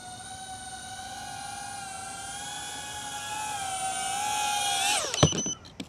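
Cinelog 30 V3 FPV drone flying in to land: a steady, high multi-toned motor whine builds slightly louder, then drops sharply as it touches down with a few clattering knocks before cutting out.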